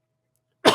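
One sudden, loud cough bursts out close to the microphone after a stretch of silence, cutting off abruptly.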